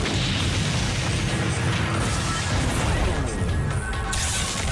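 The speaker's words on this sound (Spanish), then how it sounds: "Y ahora con Saint Greymon hacemos una explosión brillante." A bright explosion attack by Saint Greymon in the video game Digimon Hacker's Memory, a loud sustained blast with crashing bursts and a roaring rumble that carries through the whole moment without any voice.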